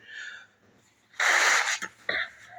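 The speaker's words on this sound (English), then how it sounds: "I'm going to blow my nose." A man blows his nose, producing a loud, close burst of airy honking snorts with a short follow-up blast, set against a quiet room.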